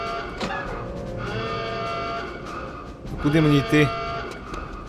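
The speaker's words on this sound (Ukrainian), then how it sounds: "Ну, сирена, жесть." Wailing alarm siren in the 2001 shooter game Return to Castle Wolfenstein, a droning rising tone that swells louder near the end, while someone talks over it.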